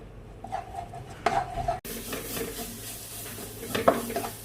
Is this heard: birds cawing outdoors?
no